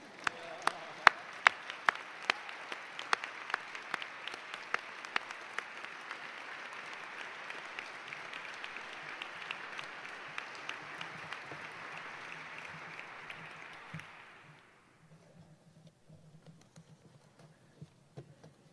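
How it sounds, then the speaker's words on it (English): Audience applause fills a graduation class day ceremony for a postbaccalaureate premedical program, a steady wash of clapping lasting about fourteen seconds before stopping abruptly, followed by quiet room noise. "Please clap."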